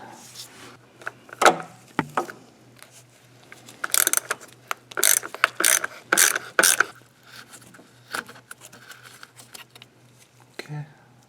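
A hand ratchet working a transmission mount nut loose underneath a BMW E32 735iL, giving bursts of quick rapid clicks with pauses between, close up, plus some metallic handling and a faint background hum.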